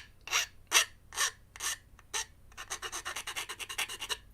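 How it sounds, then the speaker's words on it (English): Rounded file rasped across a workpiece, first in about five slow separate strokes, then in a quick run of short, rhythmic strokes, close up and fairly quiet with no talking. "I'll use the rounded file actually."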